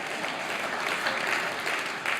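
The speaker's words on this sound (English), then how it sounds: "in a moment I want you to give a round of applause" Audience applause after a talk on money in American politics, an even spatter of many hands clapping that stays steady for the couple of seconds it is heard.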